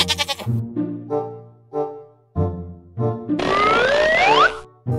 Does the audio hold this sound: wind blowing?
no